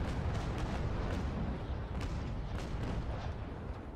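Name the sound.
ship cannons firing a broadside in video game Naval Action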